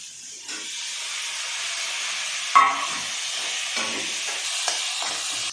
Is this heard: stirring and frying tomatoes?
yes